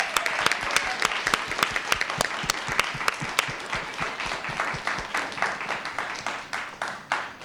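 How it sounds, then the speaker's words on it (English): A crowd at a school district governing board meeting applauds, with dense sharp hand claps at close range that gradually thin and fade toward the end. "Let's give them a round of applause."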